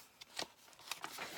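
A few quick, crisp crinkles of thin tracing paper being handled up close, short rustling bursts separated by brief quiet gaps.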